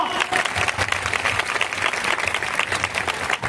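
Steady loud applause from a crowd at a Christmas gathering in Kotagarh, Kandhamal, dense clapping that continues without a break.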